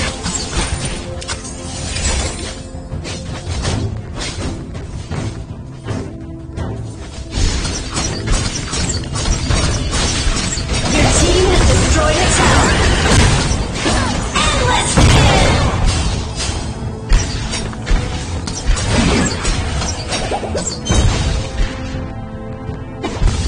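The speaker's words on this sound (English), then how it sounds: "Your team has destroyed a tower." Tower destruction in the MOBA game Hero Evolved, a dense stretch of crashing, shattering and rumbling mechanical game effects that swells loudest around the middle, with no talk over it.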